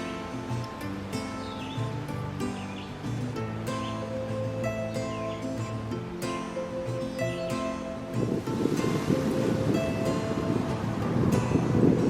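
Strong wind blows steadily at Wind Gap, Pennsylvania on a hot, humid day, buffeting and roaring across the microphone, growing rougher and louder toward the end.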